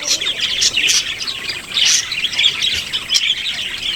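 Small pet birds at an animal rescue, including yellow and white birds, chirp and tweet continuously in a busy, overlapping chorus of bright high calls, close by and fairly loud throughout, with no talking.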